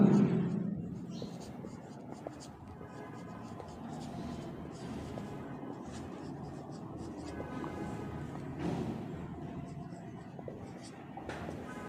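Pen or chalk scratching out a physics energy equation, steady writing strokes heard up close beneath a person speaking in Bengali throughout.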